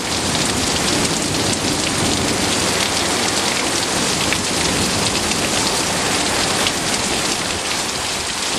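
Heavy rain pours down steadily during a tornado storm in Pawhuska, a dense, constant roar of drops hitting surfaces with no pauses or voices.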